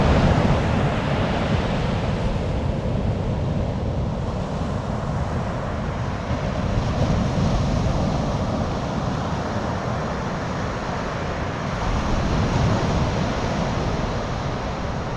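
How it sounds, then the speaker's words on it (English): Ocean waves breaking on a beach along a remote South Australian coastline, a continuous loud roaring wash of surf with gentle swells in intensity, mixed with wind buffeting the microphone and no voices. "you turn around and the beach is right there"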